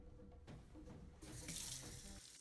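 Tap water runs into a kitchen sink while hands are washed, a steady close splashing that swells louder partway through, with no talk.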